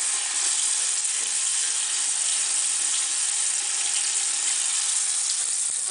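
A bathroom tap runs steadily and close as teeth are rinsed after brushing, a constant bright hiss of water with no break and no voices.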